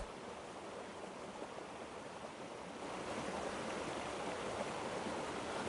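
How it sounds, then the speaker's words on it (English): A waterfall near Llyn Dinas in Snowdonia makes a continuous broadband rushing of falling water, steady and moderately loud, growing a little stronger partway through, with no voices. "then you walk up here and you've got a waterfall."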